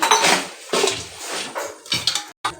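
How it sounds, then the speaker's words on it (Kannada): Roasted peanuts being mixed in a metal bowl with a spoon, giving a run of close clattering, scraping scoops that come in uneven bursts with short pauses between them. "ಶೇಂಗಾ ಮಿಕ್ಸ್ ಮಾಡ್ತಾ ಇದ್ದೀನಿ."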